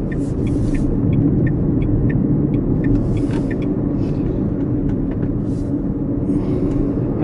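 A Dacia Spring electric car accelerates onto an expressway, heard from inside as a constant low road rumble with faint intermittent higher whines over it.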